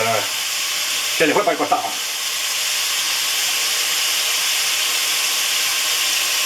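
Onion sealing in a hot pan for Spanish-style mondongo, a steady hiss of sizzling throughout, with a brief spoken phrase and a short clatter near the start.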